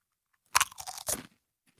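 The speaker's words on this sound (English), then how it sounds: "So let's go ahead and give it a little crunch." A few loud, crisp crunches as someone bites into smoky barbecue-flavored chips, then keeps chewing, close up and otherwise quiet.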